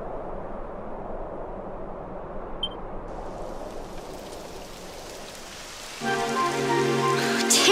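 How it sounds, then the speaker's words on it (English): Rain beginning to fall in the video game Dragon Quest XI, a steady soft patter that swells and grows heavier toward the end, with no talking. "It would have to go and start raining, wouldn't it?"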